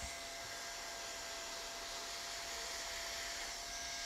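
A hot air welder runs on PVC roofing membrane with a continuous, even blowing hiss throughout, steady and fairly close, with no speech.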